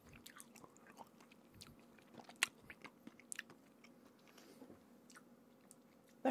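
Lemonhead candies are bitten and chewed close up, with small crunches and soft squishy mouth sounds in an irregular rhythm, faint and without talk.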